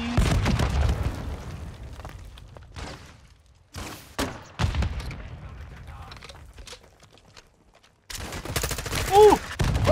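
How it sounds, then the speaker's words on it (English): Call of Duty: Modern Warfare 2 battle sounds: an RPG explosion and bursts of gunfire crack out in loud, irregular blasts with gaps of quieter rumble between, and a short higher-pitched whine near the end. "Bro, that RPG was so close."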